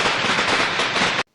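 A firecracker goes off during Diwali in a cartoon scene, a loud sustained crackling burst that fills over a second, then a sharp cutoff into silence and a brief final pop.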